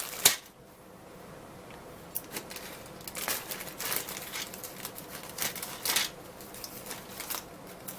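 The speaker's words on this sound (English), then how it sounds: "We'll go ahead and cut that open." Scissors snip open a plastic bag of molded parts from a Revell 1:25 scale 1994 Chevy Impala Snap Tite model kit, with scattered close crinkles and sharp cuts that build in bursts.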